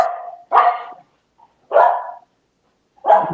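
A dog barks three times in separate loud bursts, roughly a second apart, during a podcast recording, with no talk over the barks.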